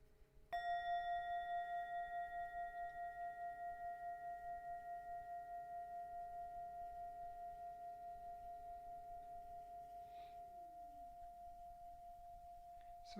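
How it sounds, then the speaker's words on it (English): A meditation bell is struck once, ringing out with a clear, sustained metallic tone that decays slowly over more than ten seconds in a quiet room, with no voices. "I'm going to ring the bell"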